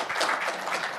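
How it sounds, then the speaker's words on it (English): Audience applause at an evening political talk event, a dense burst of clapping filling the room for about a second, close and fairly loud. "Round of applause."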